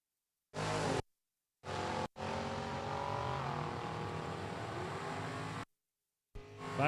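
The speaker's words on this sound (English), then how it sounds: "The Van Haren family got the Pontiac out in right-hand lane together again, taking on a Matt Knapp, Kalamazoo, Michigan Ford Ranger pickup truck." A Pontiac and a Ford Ranger pickup drag racing at a strip, loud engines roaring and revving in a sustained run with rising pitch, broken by short silent gaps.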